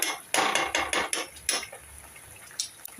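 A spoon scrapes and clinks rhythmically against a bowl while Schezwan chutney sauce with soy sauce, vinegar and tomato sauce is stirred, a series of sharp close taps that slow and fade toward the end, with no talking.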